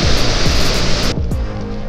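The waterfall at Cachoeira do São Romão in Chapada das Mesas gives a loud, dense roar of falling water that is constant and near, with a brief drop in the hiss partway through.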